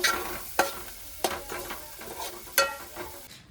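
Samosa potato masala being stirred in a pan with a soft steady sizzle, broken by several sharp scraping strokes of a spoon at irregular intervals, close and moderately loud with no talking.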